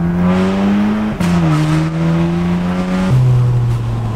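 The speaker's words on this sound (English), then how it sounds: "Do you think my car's loud?" A loud car engine revving hard near a street race, a strong steady drone that holds pitch, dips sharply and climbs again in stepped surges, close and continuous with no talk.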